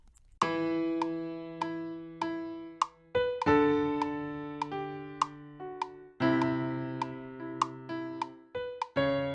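An off-beat piano sketch loop made on an iPhone: plucky, percussive piano notes and chords struck in an uneven rhythm, clear and fairly quiet, with no talking.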